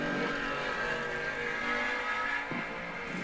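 A '78 Camaro and a Chevrolet Malibu race at a drag strip, their engines a steady distant roar, fairly faint, with a slight dip in pitch near the end.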